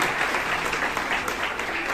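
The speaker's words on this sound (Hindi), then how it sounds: "सब लोग कृपया करके जोर जोर से तालियां बजाएं उत्साहवर्धन के लिए।" A hall audience at an Aipan art competition at Govardhan Hall in Nainital applauds the prize winners, giving a brief burst of steady, dense clapping that fills the room with no voices over it.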